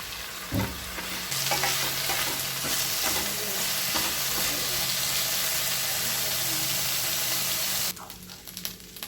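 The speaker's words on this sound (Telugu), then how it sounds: "ఇది కూడా బాగా వేగక్కర్లేదండి, కొంచెం లైట్గా వేగితే సరిపోతుంది" Chutney ingredients and tamarind fry lightly in a pan, giving a steady close sizzle with intermittent stirring scrapes throughout, no talking.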